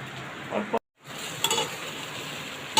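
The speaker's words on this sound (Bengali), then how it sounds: "কফি এবং সোয়াবিনটা দিয়ে দিলাম তেলের সাথে ভালো করে ভেজে নিচ্ছি" Soybean chunks frying in oil in a pan, a steady close sizzle with stirring scrapes, briefly cut to silence before the hiss resumes, no talking.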